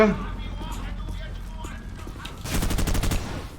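Gunfire in Call of Duty 4: Modern Warfare, a rapid burst of automatic shots from about 2.5 seconds, following quieter game noise with a voice talking early on.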